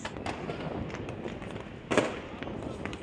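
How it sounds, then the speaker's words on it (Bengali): Distant New Year fireworks pop and boom in scattered bursts, one sharper blast standing out, over a muffled crowd-like background. "আতশবাজি হচ্ছে এবং যে পরিমাণ সাউন্ড"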